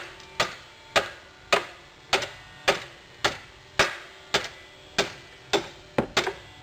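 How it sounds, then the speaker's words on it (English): Metal hammer blows struck at a steady pace on the ball joint of a 1998 Buick Park Avenue, about a dozen sharp ringing whacks roughly half a second apart, loud and close, with no voices. "now I'm going to whack the ball joint this way"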